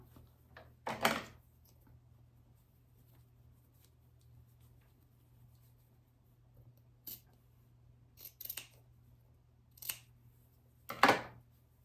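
Scissors snip the thread tail on a quilt binding, several sharp, crisp cuts spaced apart in a quiet room, close and clear.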